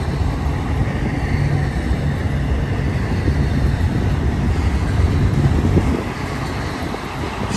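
BNSF intermodal freight train loaded with trailers and containers rolling past at Blue Cut in Cajon Pass, a continuous loud rumbling clatter of wheels on rail that holds steady and drops a little near the end.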